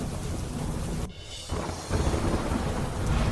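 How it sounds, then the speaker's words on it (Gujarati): Rain showers with strong wind in Gujarat, a dense continuous hiss of rain and gusts with a low rumble, briefly dipping before swelling back louder, no talk. "તેજ પવન સાથે હળવાથી મધ્યમ ઝાપટા પડ્યા"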